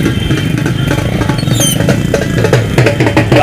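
Motorbikes in a welcoming convoy for a local leader at Rampur village rumble loudly and steadily, engines idling and revving together in a dense, continuous roar with some clatter.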